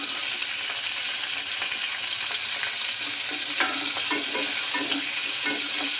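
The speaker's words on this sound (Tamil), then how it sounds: "இப்போ நம்ம கட் பண்ணி வச்ச வெங்காயத்தை சேர்த்துக்கலாம்." Chopped onions fry in a pan with bay leaf, cinnamon, cardamom and cloves for a Chettinad mutton gravy, making a loud, steady sizzle with faint scraping as they are stirred.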